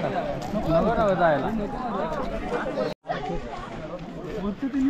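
Crowd of school trip visitors at Raigad fort, a close, busy babble of many overlapping voices and chatter with movement, steady throughout and broken by one brief silent cut.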